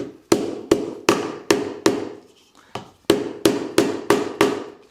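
A hammer strikes hard and repeatedly in a steady rhythm, ringing sharp metallic blows close by as a part is driven into place on a Land Rover Defender, with a brief pause in the middle before the pounding resumes.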